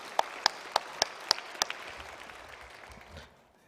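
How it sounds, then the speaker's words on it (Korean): Church congregation at a Wednesday morning service welcoming new members with a few slow, distinct handclaps spaced evenly, then a brief softer patter that dies away into quiet. "우리 박수로 환영하도록 하겠습니다"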